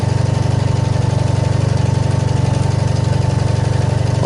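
A 1988 Honda VF750c Super Magna V4 motorcycle rumbles steadily while cruising with two riders aboard, a loud, close, evenly pulsing engine note with no voices.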